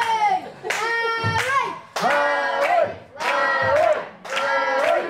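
A wrestling crowd at a Halloween-themed tournament chanting in rhythmic bursts, four loud group shouts with clapping, each about a second long and separated by short pauses.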